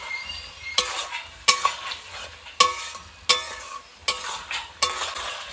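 Chicken rezala being stirred in a hot sizzling pan, with six or so sharp scraping strokes of a spoon against the metal at a steady rhythm over continuous frying.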